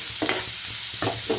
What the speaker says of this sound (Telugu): ఇప్పుడు ఆయిల్ వేసుకుని ఇందులో ఫ్రై చేసుకోవాలండి. ఇలా ఆనియన్స్ అయితే వేసుకోవాలండి బాగా.